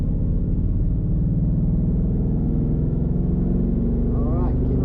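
Ford Mustang accelerating hard on The Bend West race circuit, its engine a loud, steady close-up drone that climbs in pitch near the end, heard from inside the car.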